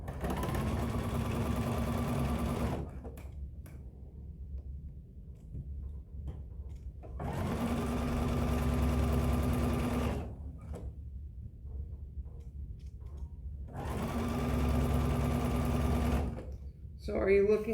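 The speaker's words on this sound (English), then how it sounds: "So I want to sew this side together." A sewing machine stitches a spiderweb table topper in three long, steady whirring runs, close and clear, separated by quieter pauses.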